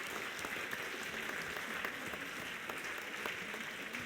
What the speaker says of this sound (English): please have another huge round of applause for Nitro 1, Nitro 2, and Mahidol BCI.